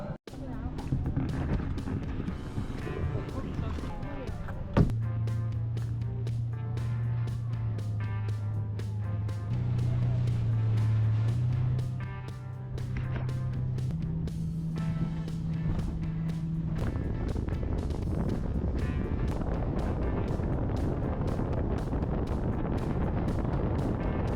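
A motorboat crosses Lake Khövsgöl in Mongolia, its engine a steady low drone under heavy wind buffeting the microphone, with the engine's pitch shifting partway through the ride.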